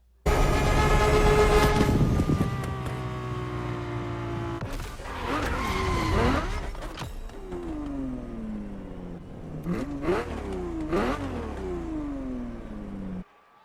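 A Ferrari F50 in the Motorfest racing game, its engine revving hard and shifting through gears while tires skid and squeal repeatedly, loud and close.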